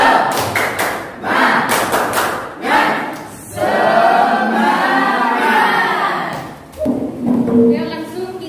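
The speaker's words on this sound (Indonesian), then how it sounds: "Maka kita tepuk semangat dulu." Schoolchildren in an Islamic studies class do a rhythmic spirit clap, a series of sharp, loud clap bursts in a quick patterned beat, mixed with a few shouted voices and classroom chatter.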